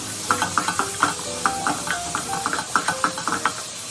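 Garlic, chorizo and shallot sizzle in a pan while being stirred, with rapid rhythmic scraping and clinking of a utensil over a constant hiss.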